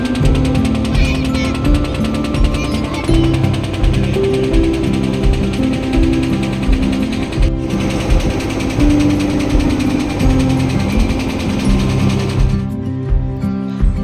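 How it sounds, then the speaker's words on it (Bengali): A ferry boat's engine runs during a river crossing, a loud, steady, continuous drone with a humming tonal rumble close by, holding even throughout with no talk. "সাত থেকে 8 মিনিট লাগে নৌকা পারাপার করতে।"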